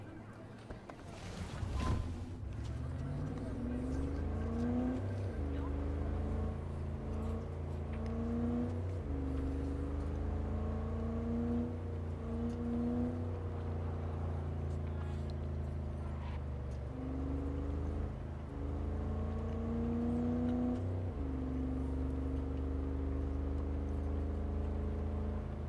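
A big gold car in Cyberpunk 2077 drives along with a steady engine drone. The motor revs up and drops back several times, as if shifting gears, over a low constant rumble that carries on throughout.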